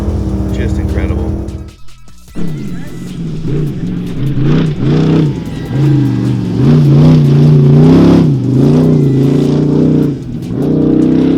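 Off-road race cars at the King of the Hammers desert race roar past close by, engines revving and surging loudly for most of the stretch after a brief dip, with a voice talking over the engine noise.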